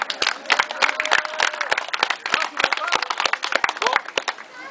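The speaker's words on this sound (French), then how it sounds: "on applaudit madame qui s'assoit" A live audience at a French street-style comedy show applauds: dense, continuous clapping from many hands, close and lively, with voices and shouts mixed in.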